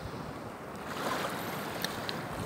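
Sea waves and wind at the shore, a steady broadband rush of surf with gusty wind buffeting the microphone and a couple of faint clicks, continuous and without any voices.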